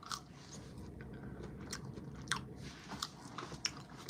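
Close, crisp biting and chewing of Jamaican jerk style fire wings, with irregular crunchy bites and wet mastication repeating over a low background hum.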